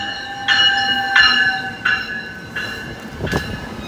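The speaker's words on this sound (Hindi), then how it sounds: "ये ट्रेन आ रही है, अब इसमें हमने सवार होना।" A train pulls into a Montreal station, close and loud, with a series of ringing, tonal wheel or brake squeals repeating every second or so over rumbling rail noise.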